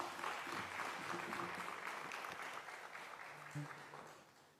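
A crowd applauds a speaker at a talk on decolonising Barbados's education system, sustained dense clapping that stays fairly even and then fades toward the end, fairly faint in the room.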